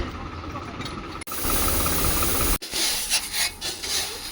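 A tractor engine idles steadily and loudly up close at a grain marketing yard where chickpeas are unloaded, with a low rumble and hiss under occasional background clatter.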